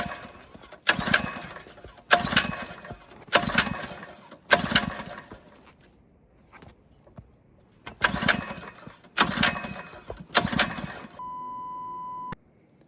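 A small gasoline engine with its choke on being pull-started again and again, each bursting sputter dying after a second, with quiet gaps between tries and a brief steady beep at the end.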